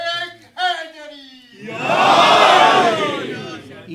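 A single voice calls out briefly, then a large religious gathering at an Imam Hussain birth celebration answers with a loud, swelling collective shout of the Ya Hussain slogan that peaks and slowly tapers off.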